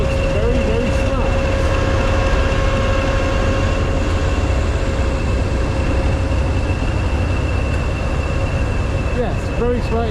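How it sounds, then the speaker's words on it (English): Class 20 diesel locomotive 20142 in London Transport livery at Kidderminster on the Severn Valley Railway, a loud, steady engine rumble with a sustained droning tone that holds throughout at close range. "class 20 in London Transport livery, 20142"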